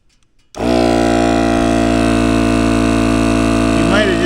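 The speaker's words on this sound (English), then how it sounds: "Set our air compressor up here." Portable air compressor set up outdoors to inflate a tire on a Polaris Ranger 570 off-road vehicle, kicking on abruptly after a short silence and then droning loud and steady with a dense motor hum until the end.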